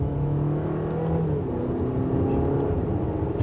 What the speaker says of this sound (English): let's put it into the dynamic setting and we can give it a little bit of gas